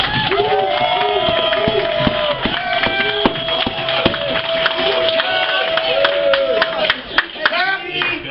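A crowd claps and cheers, with scattered sharp claps, whoops and voices chattering over a continuous patter of applause.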